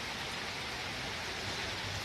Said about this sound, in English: You can see it's raining quite heavily and the water is logging here.